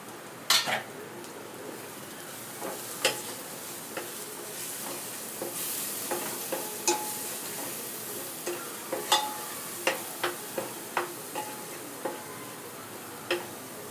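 Turmeric and biryani masala sizzling in a hot pan, a steady soft frying hiss broken by regular sharp clicks and taps of a spoon stirring against the metal.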